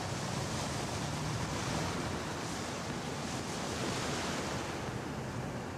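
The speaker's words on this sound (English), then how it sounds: "The waves were getting really strong." Strong ocean waves surge and break off the Australian coast during a whale rescue, a constant loud roar of surf mixed with wind buffeting the microphone, with no voices.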